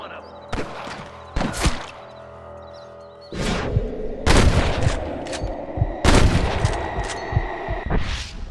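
Gunfire in Red Dead Redemption: a string of sharp, loud shots and heavier booms at irregular intervals, some overlapping into bursts, with a faint voice briefly in the background.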